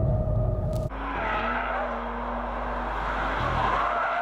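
A 2017 BMW M2 drifts on a track, its tires skidding in a loud sustained squeal over the roaring engine, steady and close for several seconds.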